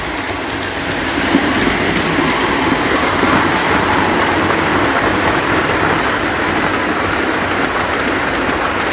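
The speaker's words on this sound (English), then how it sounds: "it pulled this heavy train without a problem" A steady, continuous rumbling and clattering of a Menards F-series model locomotive pulling a heavy train along a track, holding an even level throughout after a brief quieter start.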